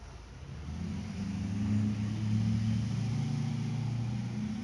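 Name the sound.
motor running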